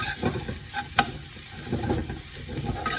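Minced garlic and onion sizzle in a hot pan as they are stirred, a steady fry hiss broken by scraping utensil strokes and a sharp clack, close and fairly loud.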